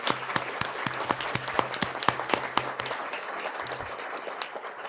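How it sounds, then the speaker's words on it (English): A small room of people claps for a retiring school crossing guard at a township board meeting, a sparse round of individual, distinct hand claps close by that thins out toward the end. "he deserves a round of applause"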